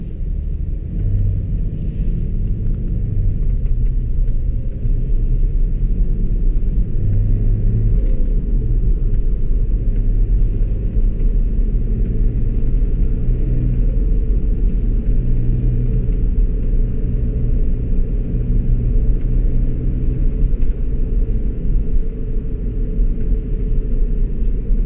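Tuned 2005 BMW 535d diesel, remapped to about 370 hp with DPF removed, aftermarket intercooler and filter, rumbling steadily while driven through city streets, a deep loud drone with little change in pitch.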